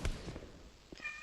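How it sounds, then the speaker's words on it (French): A pet cat meows once near the end, brief and faint, after a soft thump and some low background noise. "Excusez-moi pour le bruit de mon chat"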